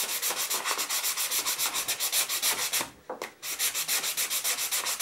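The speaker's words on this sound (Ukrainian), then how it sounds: "Ну, от наждачкою на поролоні." A chisel handle is hand-sanded with 240-grit sandpaper backed by foam, in steady rhythmic back-and-forth strokes, close and fairly loud, with one short pause partway through.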